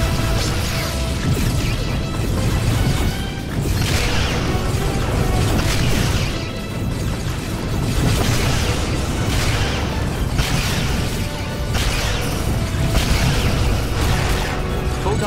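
Photon torpedoes firing and exploding in a starship battle with Romulans in Star Trek Legacy, a steady roar of booming blasts and crashing bursts, loud and continuous with rhythmic surges over a dense mechanical hum.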